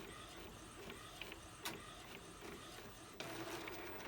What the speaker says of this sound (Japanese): で今パウダープリントシートのツルツルしている方、無印字の方に印刷をしています。